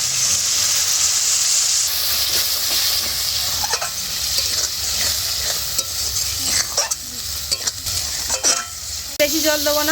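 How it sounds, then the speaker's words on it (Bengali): A small splash of masala-rinsing water hits sunderban river fish curry frying in a kadai, setting off a loud, steady sizzle and hiss with stirring scrapes and bursts of steam. "এবার কড়াইতে দিয়ে দেবো অল্প একটু মশলা ধোয়া জল।"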